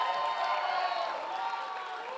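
Crowd clapping and cheering at a political election-night watch party in Detroit for Elissa Slotkin and Michigan Democrats, a steady, dense wash of applause and voices filling the room throughout.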